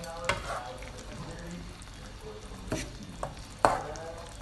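Shrimp frying in a pan for a coconut milk curry gives a quiet, steady sizzle, broken by a few sharp clacks and scrapes of stirring near the end.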